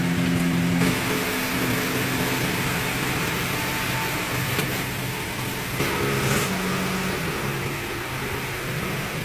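An engine runs steadily inside an engine assembly workshop, a continuous loud mechanical drone with slight swells, and no one speaks over it.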